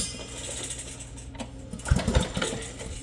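An old Briggs and Stratton generator engine built in Oshkosh is pulled over by hand, giving a few soft compression thumps and a scraping rattle at close range, quiet and brief with no talk.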